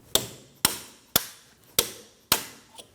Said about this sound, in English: Using a punch and a hammer, we will be punching directly through these little ports to get them all the way out.